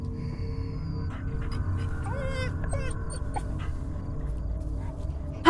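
A large guard dog in the video game Fears to Fathom whimpers and whines with high, wavering cries over a low steady hum and a faint, soft panting background.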